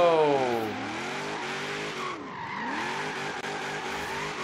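A V8-swapped Honda NSX drifts in Forza Horizon 3, its engine roaring near and loud while the tires squeal in a long continuous skid.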